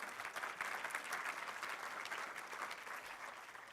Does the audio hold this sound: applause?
yes